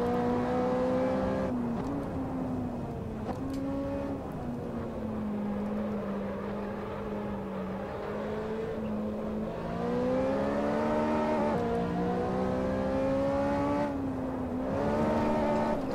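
McLaren race car engine in the Assetto Corsa racing game, droning loudly and steadily throughout, pitch climbing and dropping through gear changes as the car accelerates and brakes for corners.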